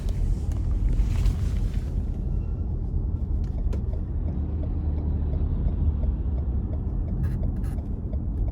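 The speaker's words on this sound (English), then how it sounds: "Gonna give it a little throttle coming out of this corner." A 2017 Lexus RX 350 accelerates gently out of a corner, heard from inside the cabin as a continuous low engine and road rumble, steady and moderately loud with faint wind noise above.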